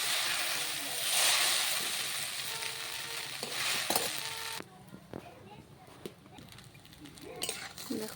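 Chow mein noodles with coriander leaves being stir-fried in a pan, a crackling sizzle with light scraping and utensil clatter that drops away sharply midway, leaving quieter scattered knocks, with a voice speaking now and then.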